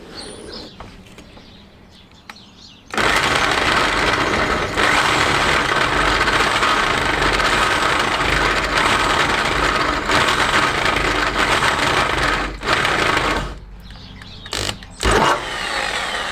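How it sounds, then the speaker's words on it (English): A power drill starts abruptly and runs loud and steady for about ten seconds drilling holes in under-engine tinware of a classic Fiat 500, then cuts off, followed by a few short bursts. "Just trying to let the drill do the work rather than pushing too hard."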